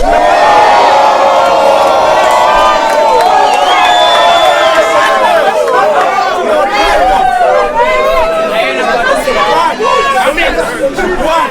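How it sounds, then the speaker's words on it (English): A rap battle crowd cheers, whoops and chatters loudly and steadily throughout, with a performer's voice rapping over the noise. "He's still getting the clapping."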